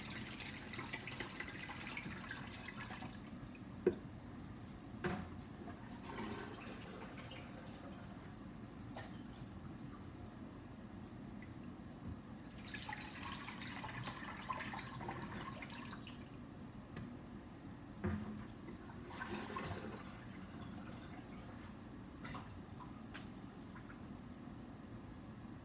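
Water is poured from a pitcher into a home aquarium over gravel, giving a steady, close splashing and trickling wash with a few brighter bursts and drips, no talking.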